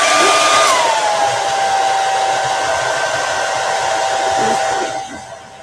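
A hair dryer blows steadily and loudly on chalk paint over a vintage truck craft design, with a constant whine that drops slightly in pitch early on, then the motor cuts out near the end.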